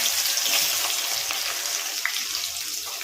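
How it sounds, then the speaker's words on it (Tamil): Onions added to hot oil with cumin and fenugreek seeds for a Tamil pomfret fish kulambu give a steady, fairly loud hiss and crackle that holds evenly throughout with no talk. "அடுத்து நம்ம வெங்காயத்தை சேர்த்துக்கலாம்."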